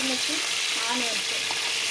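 Green chilies and onions, added after mustard and cumin seeds, fry in hot oil with a steady, loud sizzle that fills the whole moment, no pauses.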